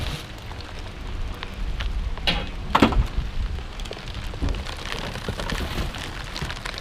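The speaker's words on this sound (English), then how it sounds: "Come on, rain, give me a break here." Steady rain pattering on surfaces outdoors beside dumpsters, a continuous close hiss with a few louder splashes and a low motor hum underneath.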